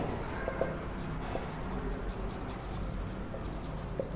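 Chalk or marker scratches across a board during a chemistry lesson, a quiet steady scraping with small taps, heard faintly over a constant room hum.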